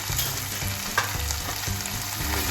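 Green chili and garlic paste frying in a pan with turmeric and red chili powder, a steady close sizzle with occasional stirring scrapes, no voices.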